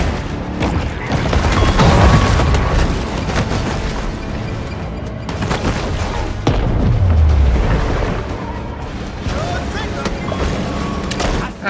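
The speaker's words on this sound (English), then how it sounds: "Oh, bomb." A bomb explodes underwater in the shark game Maneater, a deep booming blast amid a steady rumble of game sound, with someone talking over it.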